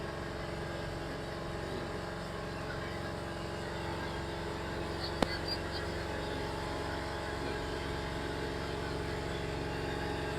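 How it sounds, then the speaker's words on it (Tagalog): Motorboat engine droning steadily at a faint level, heard from the front of a passenger boat on the way to Anawangin Beach, with a constant low hum and one brief sharp click partway through. "Kaya medyo maingay lang yung motor kasi nandito tayo sa unahan."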